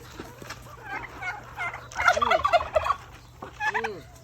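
A turkey gobbles in rapid bursts, two or three distinct rattling calls at moderate distance over a faint background hum.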